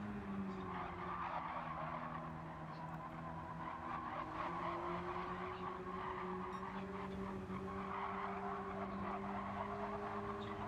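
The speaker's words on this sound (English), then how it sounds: "Just a little bit of drift coming through turn one." A race car drifts through turn one during a motorsport development series race, its tires squealing in a long sustained wail over a droning engine, steady and unbroken throughout the moment.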